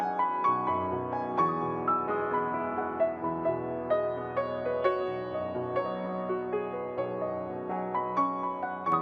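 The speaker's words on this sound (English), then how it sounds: "This is the sound of a piano recorded naturally." Piano recorded naturally, with no added processing: a continuous, moderately loud passage of struck notes and sustained chords, its gentle rhythmic attacks flowing for about nine seconds with no voices.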